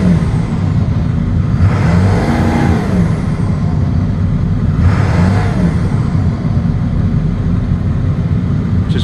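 A 2002 Ford F250 work truck's 7.3L turbo diesel V8 idles with a steady low rumble, then revs up twice in quick surges around the middle, each swelling loudly and settling back to idle.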